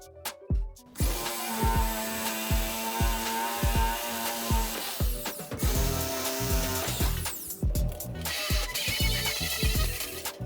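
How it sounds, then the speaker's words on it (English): Power grinder working on metal burrs, flattening them on a retro gaming build's metal case while keeping its bends and curves; loud, close grinding in repeated bursts with clanks and scraping between passes, no talk. "So I just decided to grind them flat but leave the bends and curves"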